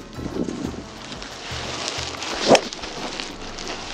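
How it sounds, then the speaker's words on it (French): Strong headwind on a golf course in Alhaurin, Andalusia, blowing across the microphone as a low, continuous rumbling buffet with a brief louder gust burst midway. "J'ai pris le bois 3, beaucoup de vent de face."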